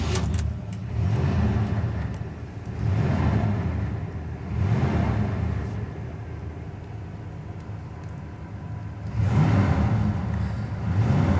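A 1979 Pontiac Trans Am 10th Anniversary muscle car engine cranks and fires, then runs with a deep rumbling idle that swells in several revs, loud and close, with no talking.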